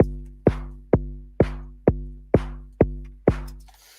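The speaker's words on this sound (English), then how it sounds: "So we've got the kick coming from the Volca drum, which sounds like this." A deep electronic kick drum from a Korg Volca Drum thumps eight times in a steady, even rhythm, each hit booming and decaying quickly, played alone.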